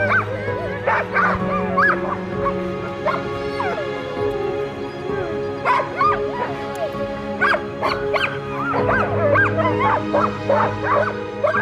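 Sled dogs in Maine yip, bark and whimper in an excited, overlapping chorus, with repeated sharp calls and whines close by and no talk over them.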